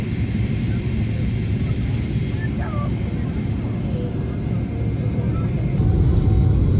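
Biman Bangladesh Airlines Boeing 777-300 rolling slowly along a long runway, heard from inside the cabin as a steady, loud low rumble and engine drone that swells slightly toward the end, with faint background voices.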